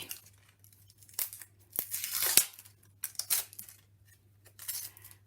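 Onion skin is peeled back by hand after the top and bottom are cut off, giving close, faint dry crinkling and tearing crackles in several short bursts, with a low steady hum underneath.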